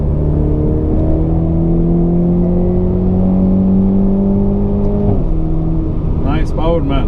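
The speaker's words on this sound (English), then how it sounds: "You take your foot off the gas, you hear some bubbles." Steady engine drone and road roar from a BMW Z4 sDrive30i M Sport while driving, with a shift in engine note near the end and someone talking briefly over it; exhaust burble off the throttle not clearly distinct.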